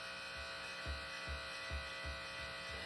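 Electric hair clippers cut hair with a faint, steady close buzz, pulsing in a regular rhythm of strokes about every half second, with no talking.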